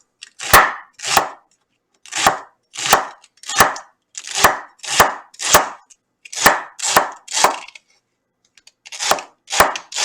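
A very sharp knife slices beef for stir fry on a board, making crisp, loud chopping strokes in a steady rhythm, about fifteen cuts with a short pause near the end, close up and alone.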